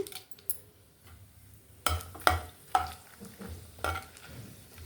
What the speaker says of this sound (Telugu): ఈ ఎండుమిర్చి బాగా ఫ్రై అవ్వాలి